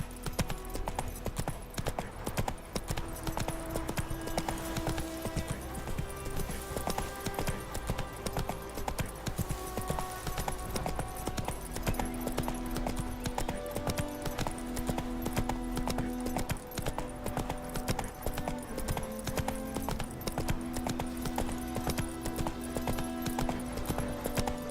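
Roach, the horse in The Witcher 3, gallops at a steady rhythmic clip-clop of hooves, close and continuous throughout, with light ambient game sound underneath.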